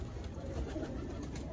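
Pigeons cooing in a breeder's loft: low, soft coos running steadily through a short stretch over a constant background hum, with no voices.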